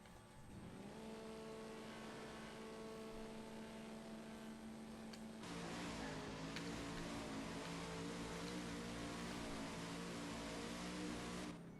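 Drag car engine in the racing game No Limit 2, a steady loud drone holding through a burnout, then jumping to a harsher, fuller roar about halfway and staying loud to the end.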